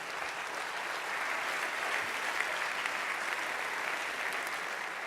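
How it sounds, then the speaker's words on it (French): An audience claps steadily at a trophy ceremony for the 2017 Vendée Globe sailing race, dense continuous applause that holds level from start to finish with no voices over it. "sous les applaudissements du public"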